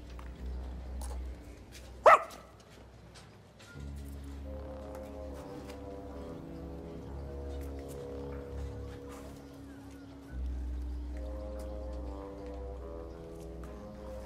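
A herding dog working sheep lets out one sharp, loud bark early on, then stays quiet against a steady low drone that runs throughout.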